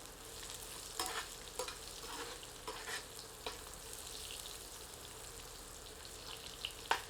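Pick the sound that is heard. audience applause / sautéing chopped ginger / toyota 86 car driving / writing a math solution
sautéing chopped ginger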